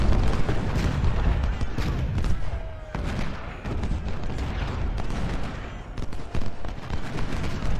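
Artillery fire in the video game Ultimate General: Civil War, repeated booms and crackling bursts layered over a dense, loud battle din, with a brief lull partway through.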